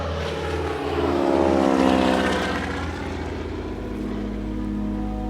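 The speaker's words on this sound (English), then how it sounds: "boarded a float plane to head to a new river" Float plane droning in flight on the way to a river, a loud steady propeller and engine roar that swells slightly then holds level throughout.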